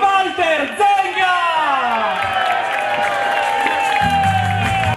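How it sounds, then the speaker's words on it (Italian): A packed San Siro football stadium crowd at an Inter match roars and applauds loudly, with whoops and shouts rising throughout, dense and sustained, and a low rumble of voices joining near the end. "San Siro, fai un applauso per lui"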